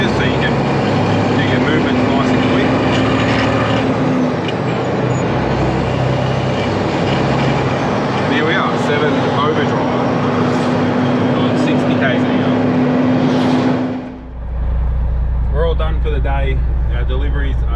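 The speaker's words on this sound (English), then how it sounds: "The fan's on, so that'll be helping rip the RPM down on the gear changes" Truck engine running with the cooling fan engaged during gear changes, a loud continuous rumble and whine for most of the stretch that drops away abruptly near the end, leaving a lower idle-like hum.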